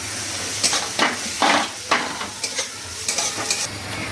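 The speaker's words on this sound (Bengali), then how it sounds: "দেখো সব মশলা আমি দিয়েছি, দিয়ে এবার ভালো করে কষাচ্ছি আর কি" Ground spices and a chopped tomato and onion masala sizzle in an oil-slicked pan while a spoon scrapes and stirs them in repeated bursts, close and steady with no talking.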